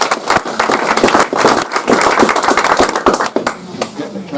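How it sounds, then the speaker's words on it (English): Audience at an evening talk clapping to welcome a speaker, with a dense, loud round of applause from a small indoor crowd and voices mixed in. "Right, give me a clap"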